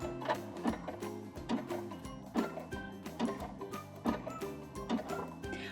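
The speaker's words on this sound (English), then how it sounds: "I'm safe, so now I'm ready to stitch." A sewing machine stitches a button on, its needle action making a rapid, steady mechanical clatter with regular rhythmic pulses, close and alone with no talking.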